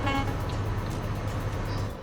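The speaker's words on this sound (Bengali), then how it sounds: "এটা হচ্ছে এয়ার হর্নের সাউন্ড," Volvo truck air horn sounding in a driving video game on a road with an oil tanker, a steady loud sustained blast holding for about two seconds with engine rumble beneath.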